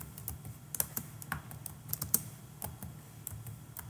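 Typing on a computer keyboard, entering a search query into Google: a steady run of close, crisp key clicks with irregular rhythm and a few louder taps, no voices.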